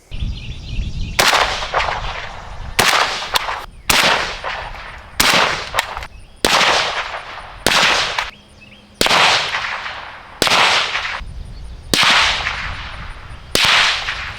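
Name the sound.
suppressed rifle gunshots, JMac Customs Banka suppressor on 7.62x39 PSA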